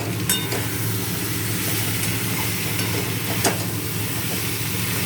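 Aloo posto, potatoes in poppy seed paste, being stirred in a frying pan, giving a steady close sizzle and hiss with a few faint scrapes of the spoon and no talking.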